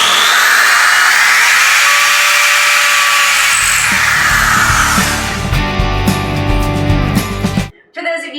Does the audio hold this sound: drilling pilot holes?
yes